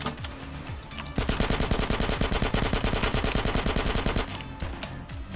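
Rapid bursts of automatic gunfire in the multiplayer game GTA San Andreas Multiplayer, a dense rhythmic machine-gun-like rattle lasting several seconds, loud and close, with no talk over it.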